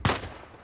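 A single sharp burst of gunfire from the video game Uncharted 4, loud and close at the start, then a short fading tail.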